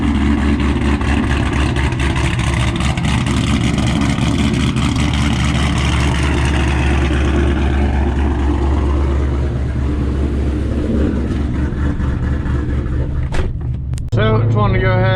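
A 2007 Ford GT500 with L&M NSR cams running close by: a loud, lumpy, choppy idle with a deep rumble that settles lower, ending with sharp clunks and handling noise.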